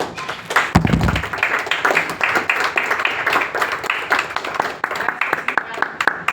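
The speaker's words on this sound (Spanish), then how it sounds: "Un aplauso a todos." An audience at a poetry reading breaks into steady, close applause, a dense patter of many hands clapping that holds throughout, with a voice speaking briefly under it.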